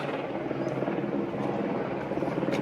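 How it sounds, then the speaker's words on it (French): Steady rotor thrum of a helicopter flying at a distance over the mountains of Réunion Island, a continuous droning rumble heard alone without talk. "Je pouvais apercevoir au loin l'hélicoptère."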